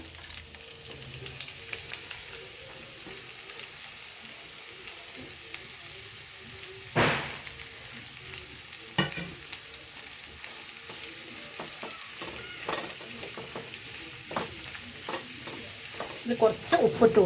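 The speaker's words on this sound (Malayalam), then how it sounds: "ഉള്ളി വഴറ്റാൻ വേണ്ടിയിട്ട് ഇനി ഉള്ളി ഇട്ട് കൊടുക്കുക" Onions sautéing in a pan for a Kerala-style mackerel and prawn pollichathu, a steady low sizzle broken by stirring scrapes and a few sharper clatters that grow busier toward the end, with no voices.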